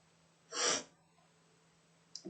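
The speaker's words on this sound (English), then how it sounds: "Sorry for sniffing, I don't know why I do it." A single sharp sniff close to the microphone, then quiet, with a faint second breath starting at the very end.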